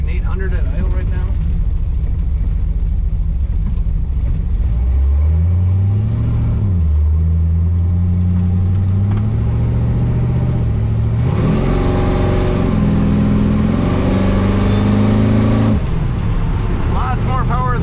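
A 1930 Ford Model A pickup street rod engine idles at about 800 rpm with a deep, steady rumble, then revs up briefly twice, its pitch climbing and falling back to idle.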